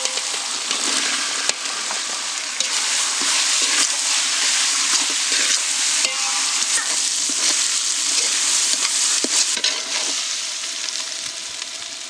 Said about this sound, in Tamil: வெங்காயம் ஒரு பாதி அளவுக்கு வதங்கி வந்துருச்சு.